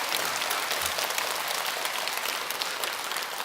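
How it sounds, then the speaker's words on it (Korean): A congregation applauds during a Buddhist dharma talk at Jogyesa temple, a brief, dense hiss of many hands clapping at once, steady and unbroken throughout. "박수 한번 쳐주세요"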